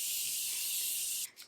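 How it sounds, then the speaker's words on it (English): Morphe makeup setting spray misted in one long, close, steady hiss that cuts off near the end, followed by a brief second puff. "I'm just gonna spray with my Morphe spray."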